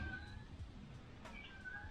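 A cat meows near a workshop door during a woodworking build, a couple of short tonal calls spread over two seconds against a steady low background hum, fairly faint and with no talking.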